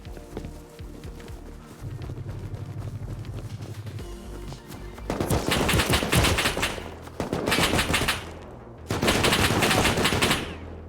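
M249 machine gun fire in Rust, shot by a player on a roof: long, loud, sustained automatic bursts that come close and rattle hard, with a brief gap between the two heaviest volleys after a rougher, noisier opening.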